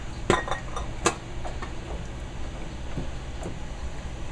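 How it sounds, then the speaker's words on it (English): A spoon stirs potatoes and carrots in a pot for guisado, with two sharp metallic knocks early on followed by softer clinks and scrapes against the pot. "let's get a good stir going"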